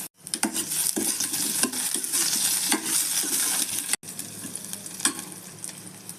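Green chillies, garlic and ginger frying in a hot pan, a steady close sizzle broken by stirring scrapes and light clinks of a spoon, with a brief cut partway before the sizzling resumes.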